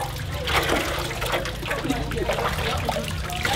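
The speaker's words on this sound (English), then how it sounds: "It's the same water that we are all putting our hand in" Hands swish and splash in a basin of water while yam grain is washed by hand, a close, continuous trickling and sloshing heard under people talking.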